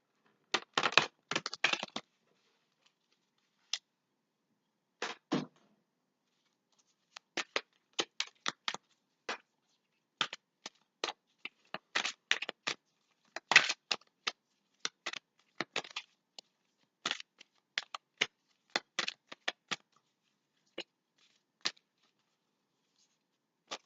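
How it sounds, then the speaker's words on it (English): Tarot cards being shuffled by hand during a reading: crisp bursts of riffling and snapping in irregular clusters, close and fairly quiet, with brief pauses between handfuls. "So I'm going to start shuffling here."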